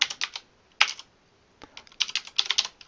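Quick bursts of keystrokes on a computer keyboard, typing words in short clusters separated by brief pauses, close and clear with no talking.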